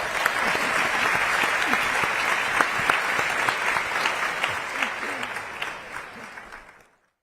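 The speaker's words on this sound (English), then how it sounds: "Give them a round of applause." A large audience at a formal opening reception and dinner applauds loudly and steadily for about seven seconds, a dense wash of clapping that fades out at the end.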